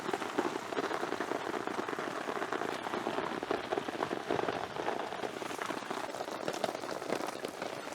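Heavy rain pours down steadily at a foggy mountain campsite in Baguio, a dense hiss of drops pattering on surfaces throughout, with no voices.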